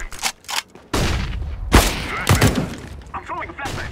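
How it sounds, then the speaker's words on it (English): A flashbang grenade goes off in Counter-Strike: Global Offensive, with a sharp bang and a rough burst of noise among other short game impacts and gunfire. Voices talk throughout. "I'm throwing a flashbang."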